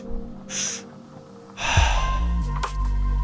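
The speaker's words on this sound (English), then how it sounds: "Finally, an exhale at the mouth." Breaths from a four-part Mithraic breathwork exercise come close up: a short sharp intake, then a longer forceful exhale through the mouth, with faint breathy noise trailing at the end and no speech.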